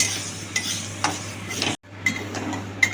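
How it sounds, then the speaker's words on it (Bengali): Red lentils are stirred and fried in a pan for chicken khichuri, with a soft steady sizzle and several close scraping strokes of a spoon, and no talking. "মুসুর ডালটা বেশি ভাজবো না আমি খুব জোর পাঁচ মিনিট আমি একটু নেড়ে নেবো"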